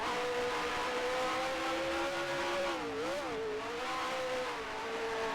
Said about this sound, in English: I think I heard one car go past.